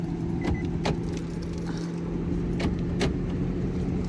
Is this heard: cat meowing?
no